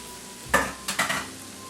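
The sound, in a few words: sweet potatoes added to browning onions frying in pan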